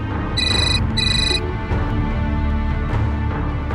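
Two short bursts of an electronic phone ringtone sound over a busy, noisy background, fairly loud and near.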